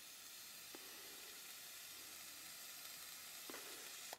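Vape RDA coil on a Profile RDA sizzling during a test fire, a steady close hiss and crackle running throughout with a few brief sharper pops.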